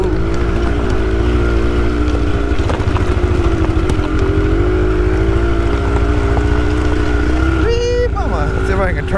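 A Honda Grom minibike rides down the road, its small single-cylinder engine humming steadily and close throughout, with a pitch shift near the end as it changes speed.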